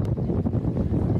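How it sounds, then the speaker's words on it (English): A strong wind gust in Maui buffets the microphone, a loud low rumbling roar that surges and dips unevenly through the brief moment, with no voices over it. "I can tell you that wind gust just picked up."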